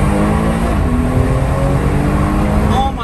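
A BMW running E85 fuel accelerates loudly from inside the cabin, with a deep rising engine drone and rumbling exhaust burbles throughout, steady and close.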